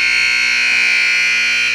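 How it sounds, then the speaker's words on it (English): A loud, sustained electronic buzzer blares steadily at the end of a championship-round game in a 3-on-3 basketball tournament, a single continuous tone with no talk. "As you hear the buzzer officially ending the game 1 of this championship round"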